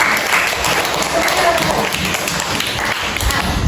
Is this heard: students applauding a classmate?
yes